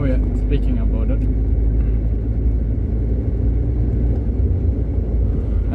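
Inside a car driving on a road in wartime Ukraine, a loud, steady low rumble of engine and tyres fills the cabin without pause while a person talks over it.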